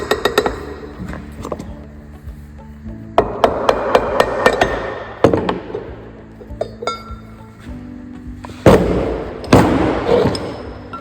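Sharp metallic hammer blows knock the cover off a Bornemann SLH-5G pump's double mechanical seal, loud ringing strikes arriving singly and in short clusters with brief pauses, close up and without talking.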